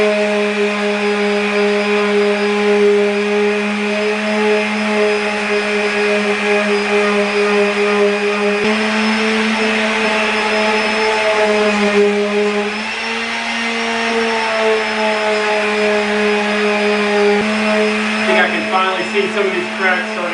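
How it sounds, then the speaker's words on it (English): A constant loud tonal whine of a power tool drones throughout while a carbon fiber rear diffuser is sanded with 220 grit sandpaper, steady and close with slight pitch dips partway through. "I switched over to some 220 grit sandpaper"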